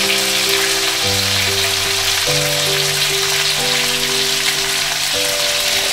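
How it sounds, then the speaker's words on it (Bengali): Broccoli fries in a pan and is turned over and over, giving a constant, hissing sizzle beneath steady background music. "ভাজা চলছে আর মা বারবার ওলট পালট করে ভেজে নিচ্ছে। মা ততক্ষণ অবধি ব্রোকলিটা ভাজতে থাকবে যতক্ষণ না এটা একটা ব্রাউনি কালার চলে আসে।"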